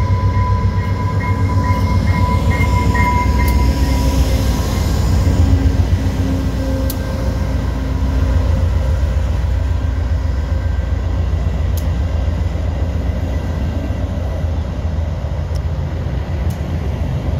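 VIA Rail train 645 runs westbound past Fallowfield, a loud steady rumble of wheels and cars on the rails lasting throughout, with tonal horn blasts sounding near the start.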